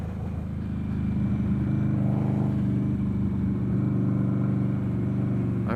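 An Indian Scout Bobber motorcycle being ridden, its engine a steady, loud low drone with a rising rev in the middle, mixed with constant wind rush and no talk.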